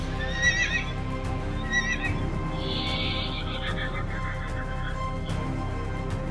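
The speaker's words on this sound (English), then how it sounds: "Egypt's chariots charged into the sea. Wheels clogged with mud. Horses stumbled." Horses whinny and hooves clatter in a dramatized scene of Egyptian chariots charging into the sea as the horses stumble. Several neighs and whinnies ring out over a continuous rumble of movement.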